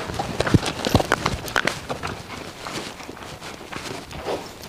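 Hooves of a four-year-old mare clip-clopping on hard ground in Jalore, a run of close, sharp irregular knocks in quick succession, with a faint voice now and then.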